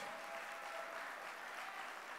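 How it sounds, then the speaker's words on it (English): An audience at a swearing-in ceremony for newly appointed parliamentary secretaries gives a steady round of applause, a dense, even patter of clapping throughout. "please put your hands together and give a rousing round of applause to all of our"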